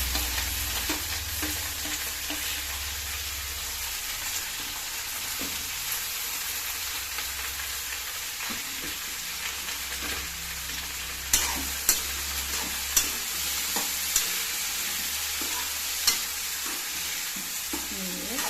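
Chopped mixed vegetables stir-frying in a pan with curry leaves, a continuous soft sizzle with a few sharp clinks of a spatula against the pan, no voices.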